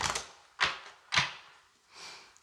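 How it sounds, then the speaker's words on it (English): Tarot cards are given a plain shuffle, three crisp riffling bursts coming close together and near the microphone, followed by a softer fourth rustle, with no voices. "I'm going to start with a normal shuffle."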